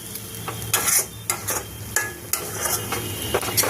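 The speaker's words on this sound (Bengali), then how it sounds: "তো চানা মশলা দিয়েও আমি এবার খুব ভালো করে কষাবো" Chana masala spices stir-fry in oil in a pan for a dhaba-style dish, with a steady sizzle and repeated scraping strokes of a spatula in an irregular rhythm, close and fairly loud.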